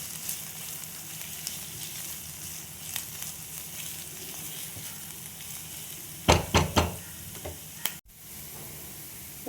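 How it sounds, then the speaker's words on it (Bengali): Onion, garlic and a green chilli frying in a pan send up a steady, moderate sizzle, broken near the end by a few sharp scraping stirs and clinks before a brief drop. "পেঁয়াজ রসুনের সঙ্গে কাঁচা লঙ্কাও ভেজে নেব।"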